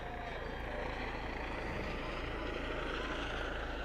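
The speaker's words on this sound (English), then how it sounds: "That's the Life Flight helicopter coming back to its helipad here near the airport." A Life Flight helicopter returns to its helipad near an airport beside a high school baseball game, its rotor drone a faint, steady distant hum throughout.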